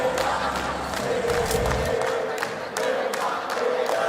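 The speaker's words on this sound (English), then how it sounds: "You can hear the crowd starting to make some noise." Arena crowd at a PUBG Mobile esports tournament cheering and roaring, a dense, continuous wash of many voices swelling throughout, with a deep rumble early on and sharper shouts rising over the din.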